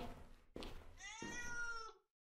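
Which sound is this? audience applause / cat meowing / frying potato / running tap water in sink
cat meowing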